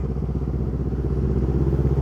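A tall motorcycle rides through flood water in the rain, giving a steady, close engine rumble with a churning, rhythmic low chug and water spray noise throughout.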